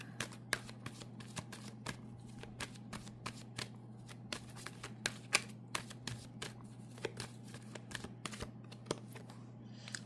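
Tarot cards being shuffled close by, a steady run of crisp riffling flicks and soft slaps over a faint low hum, continuing evenly for several seconds without speech.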